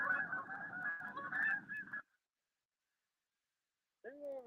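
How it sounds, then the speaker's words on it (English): Canada geese honk loudly and repeatedly at close range for about two seconds, then everything goes quiet until one more goose call breaks the silence at the end. "Protected Canadian geese."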